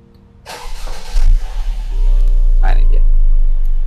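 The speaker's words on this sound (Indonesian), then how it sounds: "Oke, sekarang kita pakai engine start stop ya." A 2016 Mercedes-Benz C250 AMG (W205) with a 274 engine cranks by push-button start and catches, revs briefly, then settles into a loud, steady idle close by.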